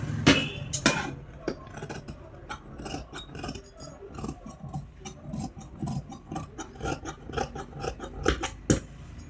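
Scissors snip through dress fabric while cutting the neckline of a long frock, a close, steady run of crisp clicking cuts with a few louder metallic clinks.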